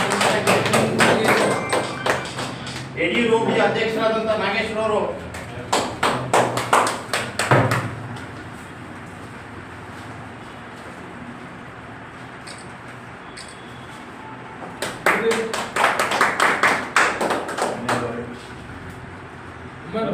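Audience clapping at a public meeting about filling lakes in Kunigal taluk, with bursts of close, sharp claps in the first seconds and again later, mixed with someone speaking into a microphone.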